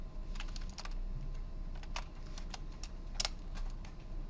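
Rapid, irregular keystrokes on a computer keyboard during a recorded classroom lecture, close and crisp, with a few louder key hits standing out over a quiet room hum and no talking.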